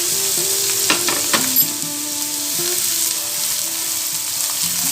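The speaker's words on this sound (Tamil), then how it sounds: "நான் இதை நல்லா சாட்டே பண்ணிக்கிறேன்." Finely chopped onion sautés in hot oil in a pan for a pizza pocket filling, giving a steady, close sizzle broken by a few clinks and scrapes of stirring.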